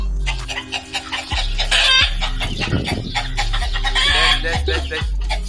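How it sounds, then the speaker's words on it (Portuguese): Chickens in a GTA RP role-play game cluck loudly and excitedly in repeated bursts, with a rooster-like crow mixed in, over a low steady background hum. "Rapaz, minhas galinhas tá doidas aqui, mano."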